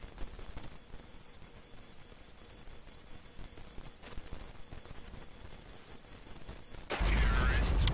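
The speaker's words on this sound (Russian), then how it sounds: "Взрывается бомба" A planted bomb detonates in Counter-Strike on the Nuke map during a mouz versus SK match: a sudden loud, deep boom near the end, after a quiet stretch of faint game ambience and a steady high tone.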